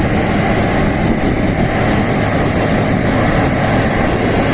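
A loud, steady combine harvester engine roar drones without pause, heavy and close, straining under load while pulling a vehicle.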